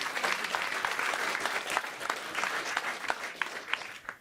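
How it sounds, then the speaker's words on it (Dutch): Audience applause at a live Frisian stage show, steady dense clapping throughout, with a faint voice briefly heard beneath. "Applaus voor Grutte Pier."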